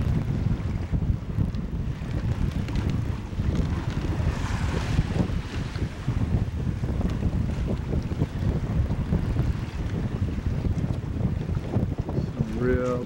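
Steady wind buffeting a sailboat near Cumberland Island, with a constant rumbling roar of wind on the microphone and water washing beneath it, close and continuous.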